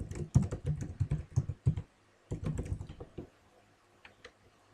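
Typing on a computer keyboard during test automation coding, fast bursts of close, crisp key clicks with short pauses between them, then trailing off into a few faint taps.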